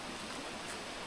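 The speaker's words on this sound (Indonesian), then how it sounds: "Suara aliran sungai ini yang bikin candu." River stream flowing beside a campsite, a steady broadband rush of moving water with no breaks, close and even in level, without any voices.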